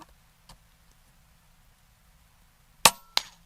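An Air Venturi Avenger .25 airgun fires at a steel bullfrog target outdoors: a sharp, loud crack followed a moment later by a second metallic report, after a faint click, with quiet surroundings and no talking.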